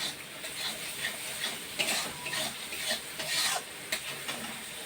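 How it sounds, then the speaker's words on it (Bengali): Spice paste being stirred and fried in a pan, a steady scraping, rubbing rasp with light sizzle, close and continuous with uneven strokes and no talking. "এরকম লাল লাল করে মশলা কষে নিচ্ছি।"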